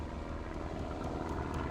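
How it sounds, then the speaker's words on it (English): A low-flying plane passes overhead at night, its engine a steady, dense broadband roar with a faint rhythmic propeller pulse, constant and unbroken throughout. "a low-flying plane raced across the night sky"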